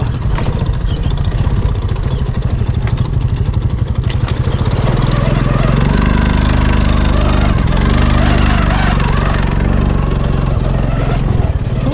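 A loud engine runs steadily throughout, rumbling and clattering close by, with its pitch rising and wavering partway through.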